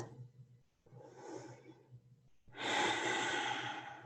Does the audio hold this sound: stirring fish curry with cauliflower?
no